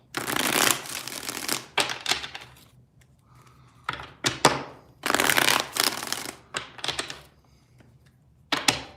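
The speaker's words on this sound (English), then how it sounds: "Three shuffles, three more." A tarot deck is riffled repeatedly at close range, loud crackling bursts of card shuffling separated by short pauses and light taps, with no voices.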